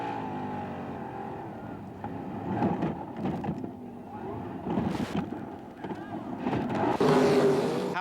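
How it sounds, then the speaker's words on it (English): Onboard a dirt-track World of Outlaws sprint car with a flat front right tire and missing nose wing: a roaring engine with heavy wind buffeting swells and fades, loud and close, with some voices mixed in. "As we go on board and take a wild ride with Greg Hodnett."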